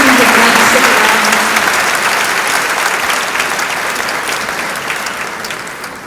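Audience at a training session on student poverty applauding, a loud, dense burst of clapping that slowly fades over several seconds, with no talk over it.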